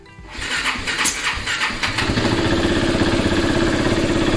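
A KTM RC 390 motorcycle engine cranks briefly and fires up, settling into a loud, steady, close idle with no talk over it.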